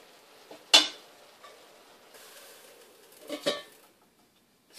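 A lid going onto a pot of spinach and moong dal cooking, with a sharp metallic clink, a quiet pause, then a second softer clatter of metal settling.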